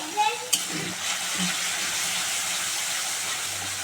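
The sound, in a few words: sautéing spices with salt and turmeric in a pan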